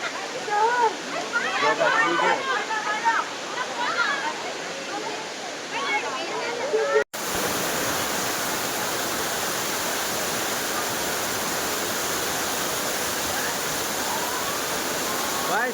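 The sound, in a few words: waterfall, Jata Shankar falls in Gir forest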